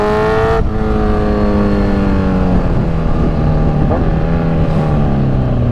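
A motorcycle on an open road carries a loud, close engine drone with wind rush, its pitch sliding down after a gear change and then holding a steady rising-and-falling whine.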